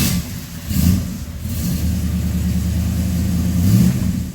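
A 1969 Dodge GTS engine on a farm rumbles low and steady, rising in a couple of revs as the car pulls away, loud and close with no talking.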